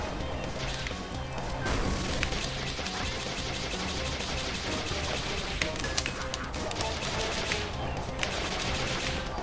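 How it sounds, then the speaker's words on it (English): Constant blaster fire in the video game Iconoclasts, a dense, unbroken barrage of rapid shots and impacts layered with game music and effects, loud and busy throughout. "Just keep shooting your blaster thing."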